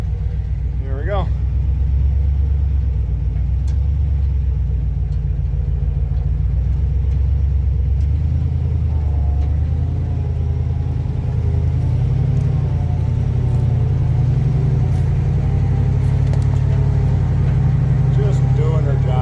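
An old truck's engine rumbles steadily and loudly throughout, with a deep low drone that swells slightly near the end and a voice speaking faintly over it.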